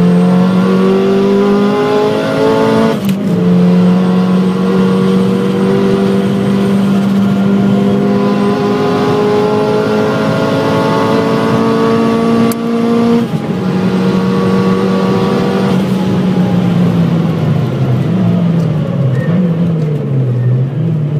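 A race car engine in the Gran Turismo video game drones loudly and steadily, its pitch rising through gears with brief shift breaks around three and thirteen seconds, then falling off toward the end.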